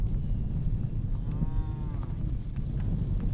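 A cow on a cattle property moos once, a drawn-out low call rising and falling over a steady outdoor rumble of wind.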